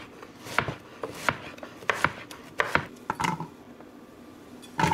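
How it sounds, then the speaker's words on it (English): A knife slices quartered squash on a cutting board, producing about nine crisp, close chops in an uneven rhythm, each a sharp knock with a short crunch, and a brief pause before the final cuts. "Cut this squash in half again, so quarters. Gonna slice these up."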